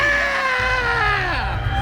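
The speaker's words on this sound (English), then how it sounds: "Children scream!" Children screaming as part of a live sound-collage performance, a loud, sustained high-pitched shriek with a falling pitch that lasts the whole moment.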